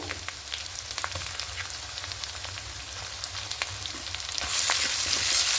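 Ginger garlic paste frying in a pan for a rohu fish curry, a close, steady crackling sizzle with light stirring, swelling louder near the end as the paste hits the hot oil.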